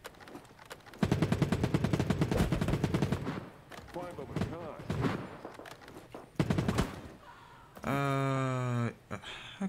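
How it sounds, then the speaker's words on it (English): Assault rifle fire from the mobile shooter Battle Prime comes in rapid automatic bursts with sharp, loud, repeated cracks. Shorter volleys follow in between, and a brief rising electronic tone sounds near the end. A player talks intermittently. "A close range assault rifle."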